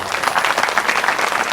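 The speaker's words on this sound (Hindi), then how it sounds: "बुलाइए ताली जोरदार।" An audience at a Shrimad Bhagwat Katha religious discourse in the village of Patrapara applauds loudly and steadily, a dense wash of clapping that fills the whole moment.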